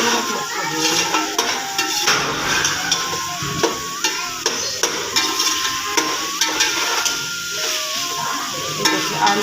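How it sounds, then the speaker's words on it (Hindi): Aloo gobi frying in a pan over a high flame, a steady close sizzle with scraping stirring strokes, while a cat meows intermittently in the background. "चूल्हे की आँच तेज करके थोड़ा सा उसको भून।"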